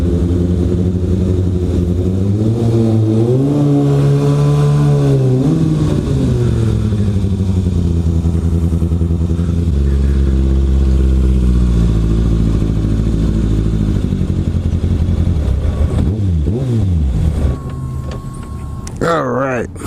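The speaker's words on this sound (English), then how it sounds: "Listen to that engine purr." Kawasaki ZX6R sport motorcycle engine revving in a parking garage, loud and close, rising and falling through several throttle blips with a smooth high-pitched whine, then settling toward idle near the end.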